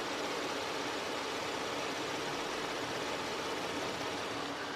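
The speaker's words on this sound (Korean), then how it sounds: "바로 엔진 소리 한번 들려드릴게요." A steady, smooth V6 car engine idles with a dense, even hum that holds without change throughout, fairly quiet.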